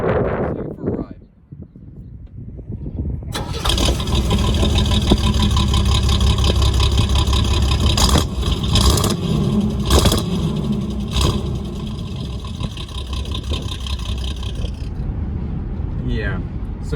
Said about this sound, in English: the sounds that come out of it with the straight pipe and the Mustang exhaust on it, it really sounds nice